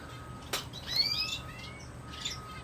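Small birds in a backyard aviary housing finches, small parrots and doves give sharp chirps and quick rising whistles, fairly close, over a faint low hum.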